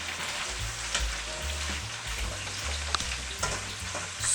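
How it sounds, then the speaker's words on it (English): Zucchini sizzles steadily in a stir-fry pan alongside chicken and mushrooms, a continuous close crackling hiss with small pops and brief louder spits, and no voices. "My zucchini's sizzling"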